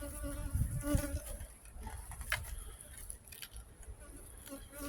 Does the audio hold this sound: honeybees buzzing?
yes